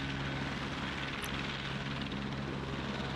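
A Flight for Life AS350B3 medical helicopter at an outdoor conference field, its engine and rotor producing a steady, loud, close drone with a continuous turbine whine and pulsing blade thrum, with no talk.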